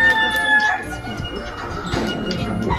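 Chickens clucking and crowing close by, with a busy mix of bird calls and occasional voices in the background throughout.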